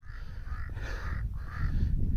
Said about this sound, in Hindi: कौवे हैं